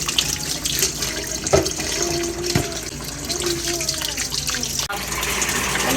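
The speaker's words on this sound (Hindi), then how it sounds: "आलू को अच्छे से धोना पड़ेगा पानी के साथ।" Water runs steadily from a kitchen tap as soil-covered potatoes are washed, with splashing and a few sharp knocks and clatters against the sink.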